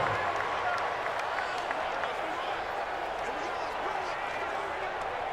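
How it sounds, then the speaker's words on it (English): Simulated stadium crowd in a Madden 20 NFL game, Dolphins at Bills, a steady dense roar of cheering building ahead of a big third down, loud and continuous throughout with broadband murmur and no clear individual voices. "the crowd getting into it as we come up on a big 3rd down"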